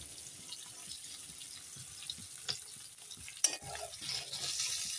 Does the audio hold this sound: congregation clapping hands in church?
no